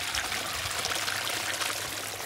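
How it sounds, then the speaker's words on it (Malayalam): Water runs continuously through a small man-made stream at a cottage-style resort in Eilat, a close, steady babbling and trickling with no voices. "ചെറിയൊരു അരുവി പോലെയൊക്കെ സെറ്റാക്കിയിട്ടുണ്ട്"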